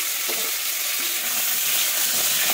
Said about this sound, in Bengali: দিয়ে কিন্তু এটাকেও সুন্দর করে আমি ভেজে নেবো